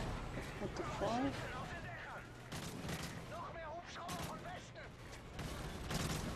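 Gunfire from the video game Modern Warfare 3, with scattered shots and bursts running through the mix under a talking voice and game noise, fairly busy and continuous.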